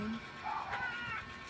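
A hungry cat lets out a short, faint meow while waiting to be fed, set against low background household noise.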